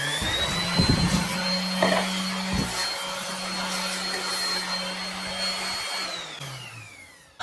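A power sander works the sharp corners of cut 2x4 pine pieces, its motor holding a steady high whine over gritty rubbing against the wood, with short scuffs as the piece shifts, before the tool winds down at the end.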